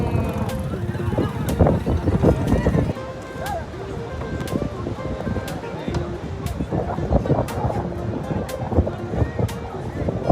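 Strong sea wind buffeting the microphone on the beach at Cox's Bazar, a continuous loud roar mixed with surf, with a brief spoken question over it.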